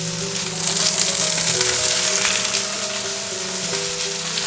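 Onions frying in a pan with chorizo and garlic about to follow, giving a steady, loud, close sizzle with a bright crackling hiss that holds evenly throughout, no talking.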